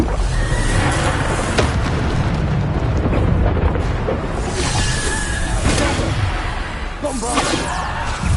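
Bombarda explosion spells going off in Hogwarts Legacy, a steady roar of blasts and whooshing bursts mixed with game combat sounds, loud and continuous, with shouted spell-casting under the noise.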